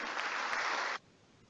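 Applause welcoming Chief Minister Shivraj Singh Chouhan at a Madhya Pradesh panchayat and rural development department event: a dense burst of crowd clapping for about a second that cuts off sharply into quiet.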